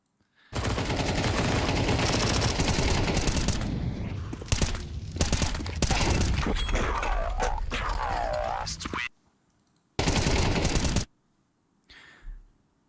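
Dense bursts of SMG fire from a Counter-Strike match in the ESL Challenger League ring out loud and rapid, broken by brief gaps, with a commentator talking over much of the shooting.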